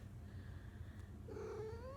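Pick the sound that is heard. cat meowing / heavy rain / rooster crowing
cat meowing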